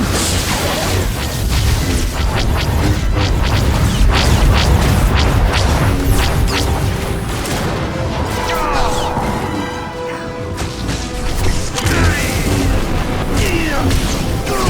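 Turret fire pounds away during the Crisis on Umbara flashpoint in Star Wars: The Old Republic, a loud sustained barrage of booming explosions, crashes and whooshes with mechanical clatter throughout.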